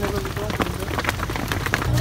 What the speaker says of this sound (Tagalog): Nabot tayo ng ulan.